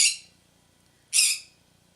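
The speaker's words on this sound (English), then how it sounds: "I also apologize for the angry chirping bird over here." Two sharp, high bird squawks from an agitated bird in a room, one at the start and another about a second later, fairly close, with near silence between and no talking.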